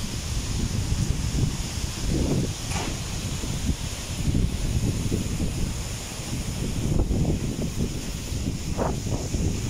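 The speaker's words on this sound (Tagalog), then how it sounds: "sobrang lakas po ng hangin" Strong gusting wind with heavy rain buffeting the microphone, with rushing surges and rustling of swaying trees, loud and continuous throughout.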